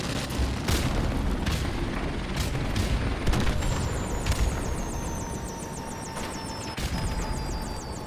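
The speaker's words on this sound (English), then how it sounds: "Friendly helicopter on the way." A friendly helicopter arrives in Call of Duty Modern Warfare Remastered, a steady aircraft rotor roar filling the scene under distant gunfire thumps and faint electronic beeping.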